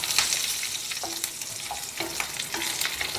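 Red and green chillies frying in a pan for ridge gourd chutney, a dense, close sizzle that carries on throughout, marked by a few light scrapes and knocks of a stirring spoon.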